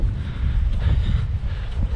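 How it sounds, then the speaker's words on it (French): Gusty wind on a coastal trail race in Brittany rumbles steadily against the microphone, a dense low roar that swells and dips without pause. "Beaucoup de vent là"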